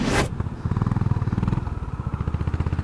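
A Honda CB350 RS motorcycle engine while riding: a close, rhythmic thumping exhaust pulse after a short burst of wind noise, steady and moderately loud.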